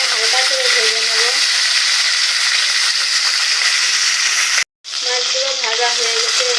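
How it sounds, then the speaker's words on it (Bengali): Rui fish pieces frying lightly in hot oil, a steady close sizzle with crackling spatter that runs continuously, cuts out briefly near the end, then resumes as loud as before. "মাছগুলো আমি হালকা করে ভেজে নেব।"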